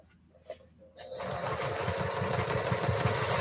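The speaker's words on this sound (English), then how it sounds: "I was almost sewing on top of thread, loose thread." Sewing machine running steadily while quilting feather designs, a fast even needle chatter that starts after a quiet moment and continues close and loud.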